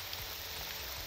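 Steady rain falls in Morrowind near the Temple of Vivec, a faint, even hiss of drops on surfaces with no break across the short stretch and no voices.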